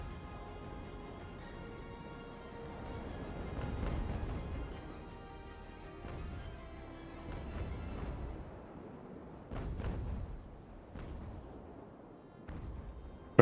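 Ships' cannon fire bombarding Nassau in the naval strategy game Ultimate Admiral: Age of Sail, a series of muffled, distant booms and rumbling blasts scattered irregularly over a low background din.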